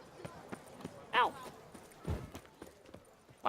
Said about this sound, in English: Why is there a horse in the middle of the street?